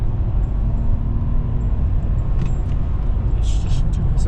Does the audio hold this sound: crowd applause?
no